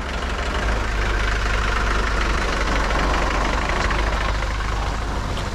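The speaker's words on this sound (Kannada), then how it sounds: "ಹೌದೌದು ಗಾಡಿ ಬರ್ತಾ ಇದೆ." A vehicle engine rumbles steadily and loudly nearby on a narrow off-road track, a continuous low idle-like drone with no speech.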